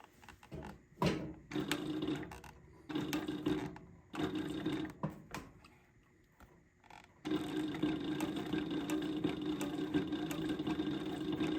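A SEWPRO 8360B high post sewing machine runs in short stop-start bursts of rapid mechanical stitching, with brief pauses in between, then settles into a longer continuous run, close and clear.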